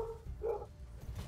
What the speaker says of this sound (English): Sorry if you guys can hear the dog barking in the background.